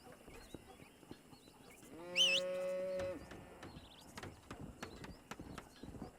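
Horse hooves clop in Red Dead Redemption on PS4, a sparse run of light, close clicks, with a loud horse whinny rising over them partway through.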